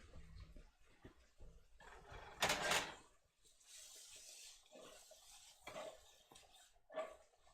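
A spoon stirs a pot of super hot chili, giving quiet scraping and clinking against the metal pot in short bursts, with one louder clatter partway through and soft gaps between strokes.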